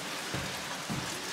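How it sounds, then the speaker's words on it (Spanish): Heavy morning rain falls steadily at a mountain lodge near Volcán Tenorio, a dense, even hiss of drops with faint low thuds against nearby surfaces. "Amanecimos con bastante lluvia, entonces todavía estamos con planes de ir a caminar."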